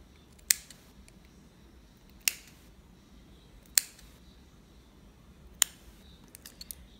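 Stainless steel coil leads of a twisted vape coil being snipped off, heard as four sharp, isolated clicks of cutters spaced a second or two apart against a quiet background.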